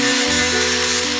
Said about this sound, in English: I'm just gonna grind up all the paint on the bottom.